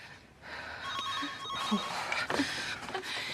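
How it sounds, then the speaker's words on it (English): A telephone rings indoors in a tense domestic scene, a bright electronic bell sounding in repeated bursts at moderate level while a voice and a gasp break in between rings. "It doesn't matter who, it's just a phone."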